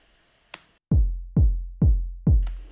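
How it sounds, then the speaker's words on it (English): Deep, punchy bass thumps from a Nord drum land four times in a steady rhythm, each with a hard attack and a long, booming low decay, following a brief bright hit. "And the punch coming from the Nord drum."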